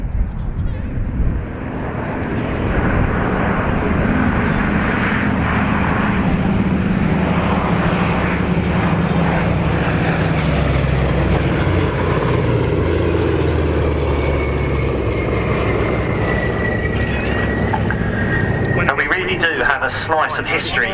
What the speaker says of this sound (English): The Republic P-47D Thunderbolt and an Australian-built version of the North American P-51D Mustang forming up on the B-17.